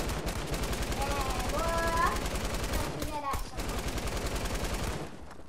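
Rapid bursts of automatic gunfire in the video game Fortnite, a dense rattling fusillade running throughout, with a person talking over parts of it.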